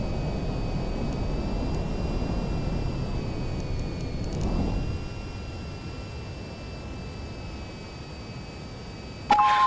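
Jet in a flight video game throttling up for takeoff, a low rumbling roar with a faint steady whine that fades after a few seconds into a quieter hum, ending in a brief sharp click.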